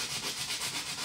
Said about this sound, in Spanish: van a lijar arriba del relieve que hicimos con el stencil y la pasta de modelar